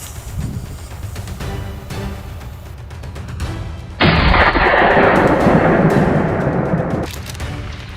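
A single loud gunshot cracks through a forest during a night wild boar hunt, then rolls into a long echoing decay over quieter background rumble and earlier faint pops.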